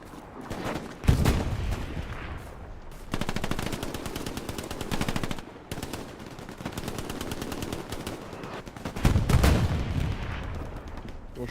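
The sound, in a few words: gunfire in the video game Hell Let Loose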